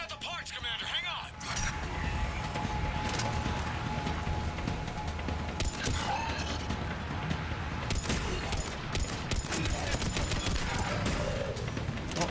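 Gunfire in Mass Effect 3 combat: repeated sharp shots and bursts scattered across a busy battle, mixed with other effects and occasional voices.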